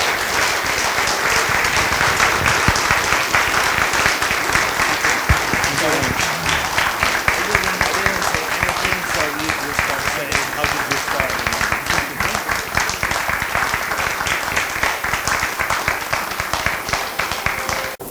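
An audience at a meeting in Warsaw welcomes a guest with sustained applause, crisp clapping that runs for about eighteen seconds with crowd murmur and voices mixed in.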